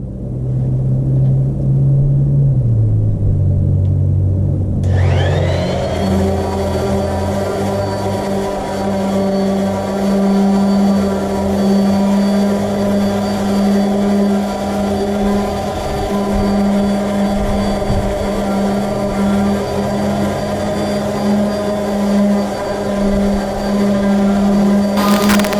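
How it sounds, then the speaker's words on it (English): An orbital sander runs continuously while smoothing the cooking surface of a Blackstone griddle, starting up with a rising whine and then holding a loud, steady motor hum with a grinding buzz. "I've got this orbital sander hooked up now."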